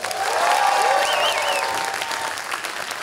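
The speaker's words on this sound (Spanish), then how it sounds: "aplaudan, cabrones." Loud, dense applause from a comedy show audience at a Halloween special, sustained as a continuous wash with a whistle rising over it, easing slightly toward the end.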